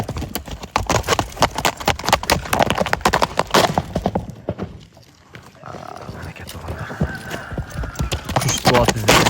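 Four-year-old strong horse, suited to kokpar, with hooves clip-clopping in a brisk, loud, close rhythm, briefly easing before resuming, with voices speaking in the background.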